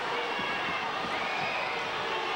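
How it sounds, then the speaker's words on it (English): A crowd roars and cheers after a slam dunk at a 1998-99 boys high school basketball game between Lafayette and Oxford, a steady wash of cheering from the gym stands with faint voices mixed in. "As you can hear, that dunk really excited the crowd here for Lafayette."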